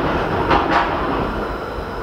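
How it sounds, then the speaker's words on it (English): A tram rumbles past an abandoned building, a steady low roll of wheels on rails with a couple of brief rattling clacks, fairly close and alone. "Here comes the tram."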